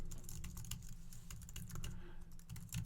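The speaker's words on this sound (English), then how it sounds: "And then I can type in information" Typing on a computer keyboard: rapid, soft, irregular key clicks close by over a low steady hum, no voices.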